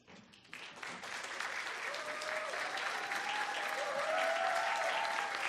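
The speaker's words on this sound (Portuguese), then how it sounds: "Vale mais palmas." Sustained audience applause fills an award ceremony honouring the economist of the year 2018, dense clapping that swells and holds steady at a fairly loud level, with faint crowd murmur and no speech over it.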